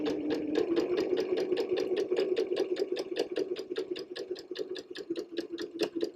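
A domestic sewing machine stitching a test seam, a steady rapid mechanical chatter of even needle strokes at close range, running continuously throughout.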